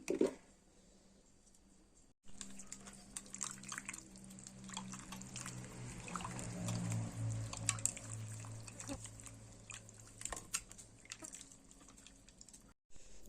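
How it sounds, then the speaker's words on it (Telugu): Tamarind juice poured into a simmering fish curry in a pan, a steady liquid pour with soft bubbling and splashing that swells in the middle and then eases off, heard alone at moderate level after a quiet start. "ఇప్పుడైతే చింతపండు పులుసు అయితే పోసుకుందామండి"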